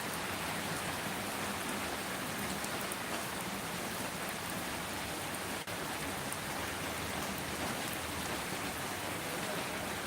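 Dense, heavy rain pours steadily, a constant hiss of drops on surfaces with no pauses or voices.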